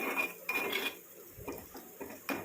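A spoon scrapes and clinks against a pan while powder is stirred in a little oil over a low flame, producing faint, irregular metallic taps and scrapes.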